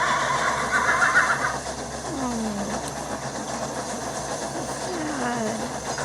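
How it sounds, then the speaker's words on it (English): A cartoon horse in a Thomas and Friends episode gives two falling whinnies, one after the other, over a steady background hum and a brief opening rattle. "But coming out from the barn was a horse."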